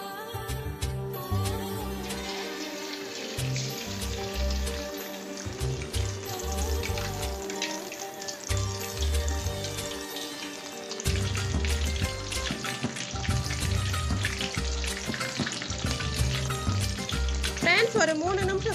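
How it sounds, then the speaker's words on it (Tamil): Marinated fish deep-fries in hot oil with a steady crackling sizzle, heard under background music throughout. "இப்போ வாங்க மீனை மொறுவலா பொரிச்சு எடுத்துக்கலாம்."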